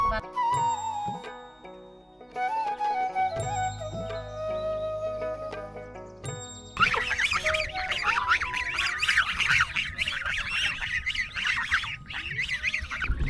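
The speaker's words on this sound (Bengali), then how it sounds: "অনেকগুলো রাজহাঁস এই ভাবি তিনি পালেন" A flock of domestic geese on a remote river island village in Bangladesh squawk and honk loudly, with overlapping calls building into a dense, continuous chorus in the second half.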